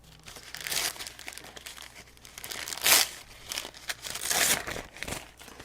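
Thin tissue paper crinkles and rustles softly up close as it is handled and laid down onto a craft tag coated with matte medium, in several uneven bursts with brief quiet gaps.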